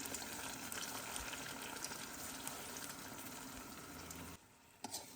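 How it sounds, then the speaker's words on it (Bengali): Pulao rice for a milk pulao is stirred and fried in a pan, making a faint, continuous sizzle with soft scraping, near but quiet, briefly dropping away near the end. "এখন আমি পোলাওর চালটাকে নেড়ে চেড়ে একটু ভেজে নেব"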